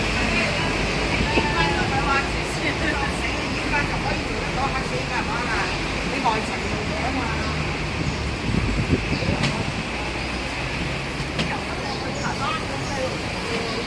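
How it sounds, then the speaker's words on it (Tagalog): Strong wind roars steadily across an outdoor mic, broadband rushing and buffeting throughout, with people talking faintly underneath. "Ah, lakas ng hangin. Ang lakas ng hangin."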